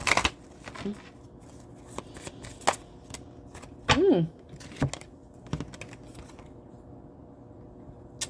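Guardians of the Galaxy oracle-style cards being shuffled by hand, heard as a series of sharp riffling clicks and short flutters at close range, with a longer burst of card rustle midway and quiet gaps between.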